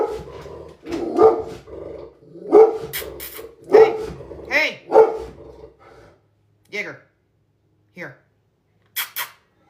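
A small dog barks in short bursts while a person talks over it, then a few sharper, isolated yaps follow at intervals once the talking stops, all close by.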